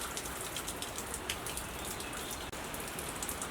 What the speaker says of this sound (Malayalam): മഴയായിക്കൊണ്ടിരിക്കുന്നുണ്ട്.